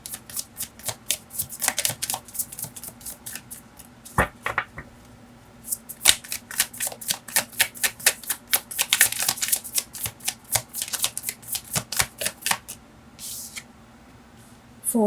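Tarot cards shuffled by hand, a long run of rapid, crisp riffling flicks close to the listener, steady and fairly loud with brief breaks, and no voices.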